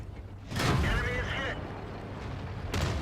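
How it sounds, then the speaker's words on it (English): Tank shell striking the ammo rack of a British Excelsior heavy tank in World of Tanks, a sudden loud impact burst with rumbling mechanical noise after it and a second blast near the end, with someone speaking over it. "And the first shot hits my ammo rack."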